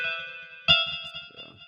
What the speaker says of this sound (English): we have this electric guitar, which is, I think, the most pronounced instrument in this beat